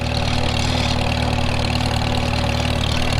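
An M&W tractor engine with a 9-speed transmission and a new carburetor runs steadily in fourth gear on the high side, a loud, even low rumble with a constant hum and no pauses.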